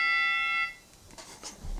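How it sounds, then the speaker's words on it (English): A bell sound effect on a podcast rings once as a bright, sustained ding that fades after about half a second, followed by faint room noise. "I'm sorry, what's the bell?"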